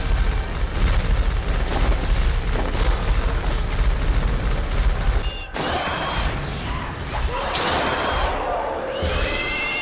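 Spell nukes explode in EverQuest, rumbling booms and crackling blasts merging into a dense, continuous barrage, with a sharp shift to brighter bursts and ringing tones partway through.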